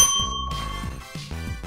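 Bright bell dings ring out in a video game obstacle course, several clear metallic strikes in quick succession over a layered musical backing, with no talk.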